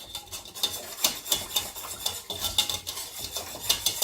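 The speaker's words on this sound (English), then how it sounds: "I simmered my sauce for 5 minutes, stirring constantly" Enchilada sauce simmering in a pan and stirred constantly: quick rhythmic scraping strokes of a utensil against the pan, about two to three per second, close and clear over a faint bubbling, with no talk.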